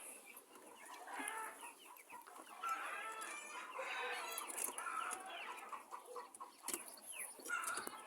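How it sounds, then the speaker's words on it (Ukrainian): Hens cluck and squawk continuously at a distance, a busy, restless chorus of fowl with occasional louder calls and faint rustling. "Кури кричать."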